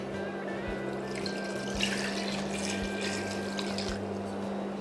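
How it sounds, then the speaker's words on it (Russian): Cold water runs steadily into a pot of prepared pike-perch for broth, a continuous close splashing stream over a low electrical hum. "Заливаем водой холодной."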